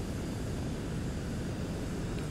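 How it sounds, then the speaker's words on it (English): Engines of a VTOL aircraft in Kerbal Space Program 2 fire up for the transition to level flight, a steady, dense low roar and rumble that holds evenly throughout with no variation. "you fire up the main engines and you start the transition into level flight"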